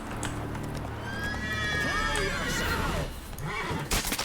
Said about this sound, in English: I can ride this horse that's not mine